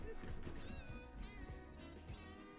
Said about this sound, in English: Oh, now the cat's here.